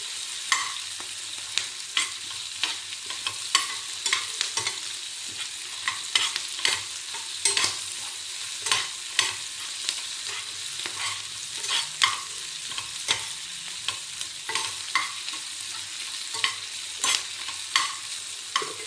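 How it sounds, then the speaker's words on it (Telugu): Onions frying over a medium flame in a pan, with steady sizzling broken by frequent scraping strokes of a spoon stirring them, close and continuous with no voices. "మంచిగా ఈ ఉల్లిపాయలు మీడియం ఫ్లేమ్లో పెట్టుకుని వేయించుకుంటే గోల్డెన్ బ్రౌన్కి వచ్చేస్తాయి"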